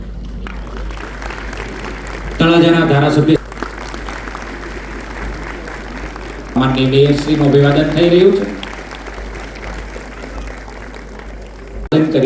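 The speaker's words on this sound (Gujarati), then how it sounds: "આપણે સૌ તાળીઓના નાદ સાથે આ ક્ષણને વધાવતા રહીએ" A crowd at a public development-project ceremony applauds as the chief minister is garlanded. Steady clapping continues the whole time, and someone speaks over it through a loudspeaker in two short stretches.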